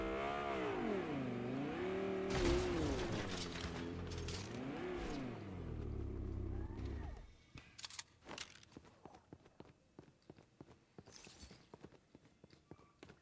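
A car in the video game Fortnite drives with a loud engine drone that rises and falls in pitch for several seconds, then cuts off into scattered clicks and taps.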